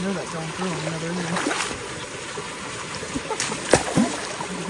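Water flows through a culvert clogged by beavers, splashing and trickling at a moderate level with a few louder gurgles and splats over a constant outdoor wash.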